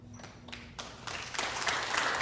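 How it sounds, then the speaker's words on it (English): Audience applause at a city health commission meeting, a scattered smattering of claps that swells into fuller, steady clapping over a couple of seconds, moderately distant in a hall. "Please hold your applause."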